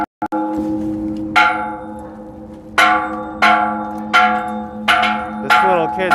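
A bell on a Brooklyn pier rung by a child, sounding as repeated loud metallic clangs with long ringing decay, five or six strikes at irregular intervals over faint background noise.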